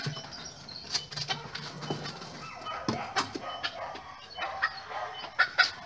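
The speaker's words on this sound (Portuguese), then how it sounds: "Galinhada solta no quintal." Several bantam chickens cluck and chatter loose in a yard, scattered calls overlapping at moderate distance with faint background noise.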